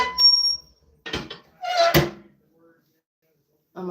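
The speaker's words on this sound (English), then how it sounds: "I'm going to shut this door." A wood stove door shut after a fire is fed, with squeaky metal movement and a sharp latch thunk, close, followed by a voice starting to speak.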